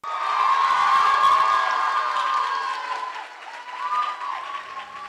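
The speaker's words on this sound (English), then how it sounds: "Can we give another round of applause for her?" Audience applause and cheering at a school commencement ceremony, a loud sustained wash of clapping with whoops and shouts that swells, eases, then rises briefly again.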